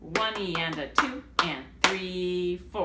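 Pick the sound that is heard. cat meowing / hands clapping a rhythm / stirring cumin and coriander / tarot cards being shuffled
hands clapping a rhythm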